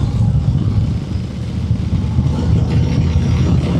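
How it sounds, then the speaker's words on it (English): Harley-Davidson motorcycle engine rumbling as the rider drops a gear on winding Blue Ridge Mountains roads, a loud, close, continuous low throb with steady pulsing and no voices. "Let's notch it down a gear."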